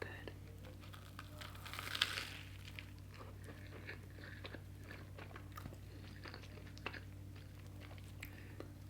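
Close, soft bites and chewing of buttery ramen on toast, with crinkly crunch textures and a louder bite burst early, over a steady low background hum.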